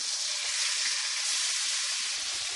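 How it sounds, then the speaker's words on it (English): Steady, loud hissing sizzle of wild shrimp frying in butter in a hot frying pan, continuous and close, with faint pops and crackles underneath. "I've melted a little butter in a frying pan, and now we're just going to cook up some shrimp."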